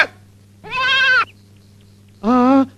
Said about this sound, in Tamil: வயல்ல ஆடு மேயுதே.